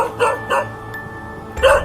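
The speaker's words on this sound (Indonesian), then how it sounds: "terdengar seperti sedang melolong dan menggonggong bersama saling bersahutan" Dogs bark in short, sharp yaps, three quick barks spaced apart with a pause before the last, fairly close and clear with no talking.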